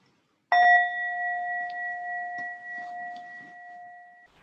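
A meditation bell is struck once after a short silence, ringing out with a clear, bright tone that sustains and slowly fades, with a few faint soft knocks in the background.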